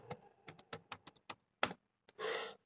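Someone types a search keyword on a computer keyboard, about ten crisp key clicks in an uneven rhythm, followed by a longer rustling burst, quiet and close with no talking.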